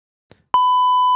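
Censor bleep set off by a button press, a loud, pure, steady electronic tone that starts abruptly after a brief faint noise and holds unbroken to the end.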